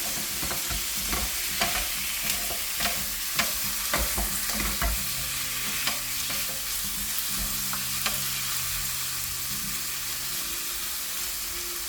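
Diced chicken browns in a little oil in a frying pan on high heat, sizzling steadily while a utensil stirs and scrapes it in a run of sharp clicks and knocks, with no talking.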